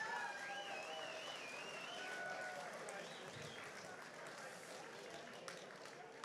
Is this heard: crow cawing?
no